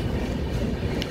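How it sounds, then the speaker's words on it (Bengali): The Konark Express rolls into Srikakulam Road railway station in Andhra Pradesh on the East Coast Railway, a loud, steady rumble of carriages and wheels passing close by, with no voices. "কোনার্ক এক্সপ্রেস প্রবেশ করছে বন্ধুরা একটি অত্যন্ত ইম্পর্ট্যান্ট রেল স্টেশন"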